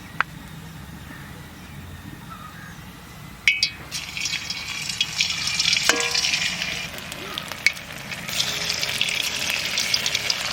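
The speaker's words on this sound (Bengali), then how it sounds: "তেলটা গরম হয়ে গেছে, এবার আমি মাশরুমগুলো ভেজে নেব।" Batter-coated mushrooms go piece by piece into hot oil in a kadai, bringing sharp crackles at each drop and then a rising, steady frying hiss with occasional pops, loud and close.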